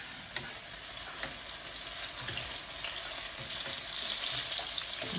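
Egg sauce sizzling and frying in a pan while being stirred, a steady close crackle with occasional scraping of the utensil, no talking.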